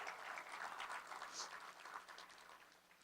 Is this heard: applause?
yes